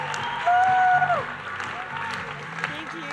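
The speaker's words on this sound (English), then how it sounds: "huge round of applause" An audience at a Game Plan 2019 event claps in a burst of applause, with a presenter's voice and a brief whistle over it before the clapping thins out.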